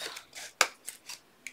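Scissors snipping through a paper box along its score line, several short crisp cuts at close range, irregularly spaced and fairly quiet.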